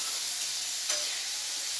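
Chutney sizzling and frying on an iron tava griddle, a steady bright hiss that holds through the whole stretch with one brief louder flare near the middle.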